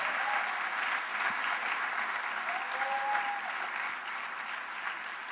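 A church congregation applauds loudly and continuously, a dense, even wash of clapping that fills the room, with a faint voice briefly under it.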